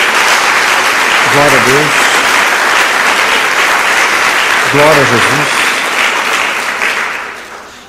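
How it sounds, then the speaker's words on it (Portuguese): A church congregation claps in a sustained, loud burst of dense applause that fades toward the end, as a voice calls out praise over it twice. "Dê uma salva de palmas a Jesus."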